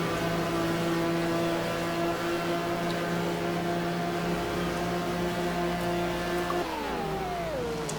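A GT1 race car engine drones at a steady high pitch down the Mulsanne Straight at Le Mans, loud and sustained, then the note drops as the car shifts or slows near the end, with no voices.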